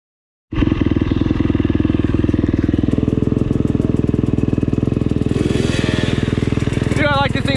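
A 2021 KTM 300 XCW two-stroke dirt bike engine fires up abruptly and runs at a loud, close, crackling idle with a rapid pulsing beat, while a voice joins near the end.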